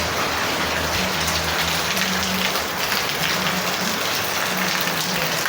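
Heavy rain pours down steadily outdoors, a dense continuous hiss of drops striking surfaces close by, with a soft intermittent low hum underneath and no talking.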